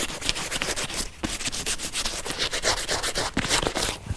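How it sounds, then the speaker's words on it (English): Wet sandpaper scrubs back and forth across softened rubber, a dense, steady rasping rub with brief pauses, close and loud. "I'm going to take the sandpaper, and first thing I'm going to do is just kind of wet it up."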